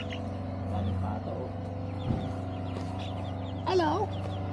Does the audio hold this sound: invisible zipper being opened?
no